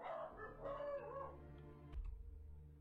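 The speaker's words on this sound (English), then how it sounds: "the dog bark that made me pause the video" A dog gives a single faint bark amid low background noise after a trailing, wavering call, with no talk.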